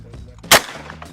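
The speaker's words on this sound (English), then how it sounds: "Let's actually shoot a clay." A single loud, close shot from a Weatherby 18i 12-gauge semi-automatic shotgun fired at a clay target, a sharp blast with a short decaying tail and quiet before it.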